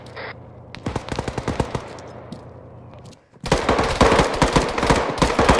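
Heavy gunfire in the Arma 3 combat game: a rapid string of sharp bursts up close, a brief lull, then a louder and denser stretch of sustained automatic fire with no voices.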